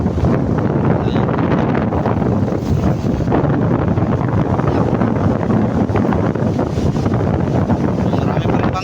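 Strong wind buffets the microphone outdoors near a riverside bridge where boats sit moored, a loud, steady roar with no break.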